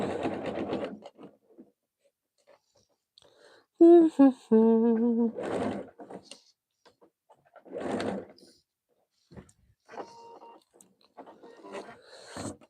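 A sewing machine stitches fabric strips in short bursts separated by quiet pauses, with a longer tonal run near the middle, close and fairly loud.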